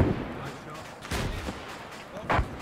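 Rocket launches and explosions in the Arma 3 military shooter, with two or three sharp booming bursts spaced a second apart over rumbling battlefield noise while players talk.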